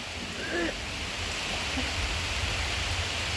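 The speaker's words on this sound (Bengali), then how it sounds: "বৃষ্টি পড়ছে সব ভিজে গেছে" Rain pours down steadily and soaks everything outdoors, making a constant broadband hiss that stays even throughout without a break.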